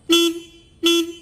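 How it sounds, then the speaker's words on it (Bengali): A Royal Enfield Hunter 350 motorcycle in Moonshot White sounds its horn twice, two loud, close, steady beeps about half a second apart. "গাড়ির হর্নটা শুনুন"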